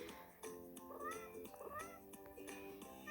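A cartoon cat meows several times in a kitten-breeding mobile game, short soft calls over quiet game music.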